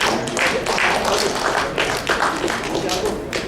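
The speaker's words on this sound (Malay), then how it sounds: "Tepukan." Audience applause at an intellectual forum in Penang, a spread of clapping that comes in clustered bursts, heard under a speaker's voice.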